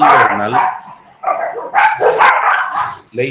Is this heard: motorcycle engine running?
no